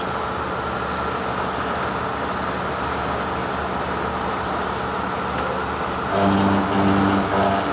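A car on a test drive hums along with a steady engine and road rumble inside the cabin, rising to a louder, slightly pulsing drone near the end, with no speech.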